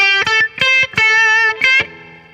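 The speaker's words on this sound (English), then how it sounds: "right now, you'll notice I really don't have a lot of distortion on here" Electric blues guitar played with only light distortion, so the notes stay clear: several sustained ringing chords and notes in short bursts, loud and close, ending in a fading tail.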